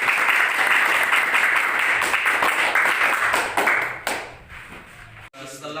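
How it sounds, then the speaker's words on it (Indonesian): A classroom of students claps together in a dense, loud burst of applause that lasts about four seconds and then thins out and fades, with voices coming in at the end. "Oke, tepuk tangan semuanya."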